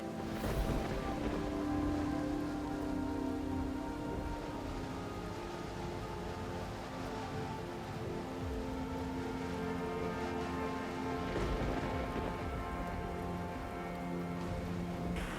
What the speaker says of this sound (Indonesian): Ini kan hujan badai